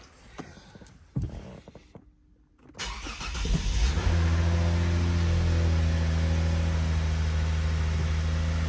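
A 2009 Lexus IS250's engine cranks and catches after some clattering handling, then settles into a loud, steady running drone, after repair of a P0976 check engine code.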